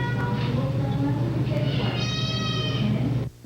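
A stray cat at an animal shelter meows in a drawn-out, rising call over steady low room hum, fairly close and clear, with the shelter's background noise continuing throughout before cutting off near the end.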